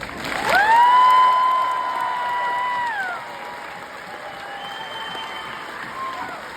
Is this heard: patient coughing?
no